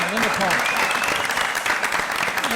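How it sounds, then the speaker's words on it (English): Audience at a journalism town hall gives a sustained round of applause, dense steady clapping from many people with a voice briefly audible underneath. "I think we owe a round of applause to Ken Davis and Linda Paul for bringing us all together."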